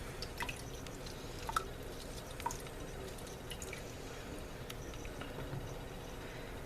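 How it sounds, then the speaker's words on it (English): A whole Halo cutie mandarin squeezed by hand, pulp and all, giving faint wet drips and squishes over a steady background hiss, with a few small splashy ticks. "I'm going to squeeze 1 whole cutie into this as well."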